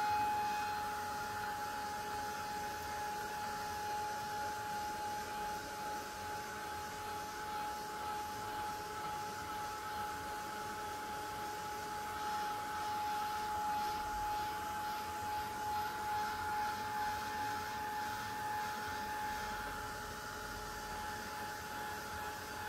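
Tim Holtz heat tool drying splattered paint on a canvas planner, a steady, quiet blowing whir with a constant whine running unbroken for the whole stretch, no voices.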